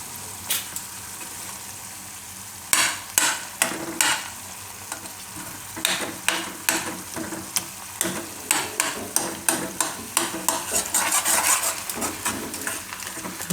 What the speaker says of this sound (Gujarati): આપણે લસણને પકાવવા માટે જ ખાલી થોડીક વાર ને માખણ ઓગળે એટલું જ રાખવાનું હોય.